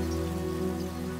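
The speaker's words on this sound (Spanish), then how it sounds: "A medida que cae la lluvia" Steady rain falls over a wild landscape, forming a continuous dense wash of drops on surfaces with no voices, evenly loud throughout.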